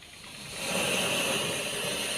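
Raw goat or mutton pieces being rinsed in water in preparation for karahi, a steady hissing, splashing wash that swells after a quiet start and holds close and even, with no talking.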